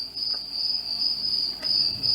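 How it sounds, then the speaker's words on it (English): Crickets chirp in a steady, high-pitched drone through a summer night soundscape played back on a budget Android tablet's docking station speaker, continuous and unbroken with faint low rustling beneath. "You can hear some of the crickets there in the background."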